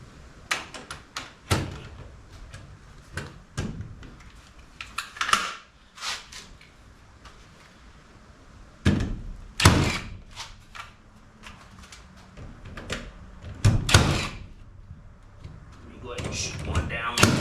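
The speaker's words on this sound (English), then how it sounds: "shoot a nail, shoot a couple nails in it" A 21-degree nail gun drives nails into pallet wood for a wall build, sharp percussive bangs arriving in irregular single and double shots, with someone talking between them.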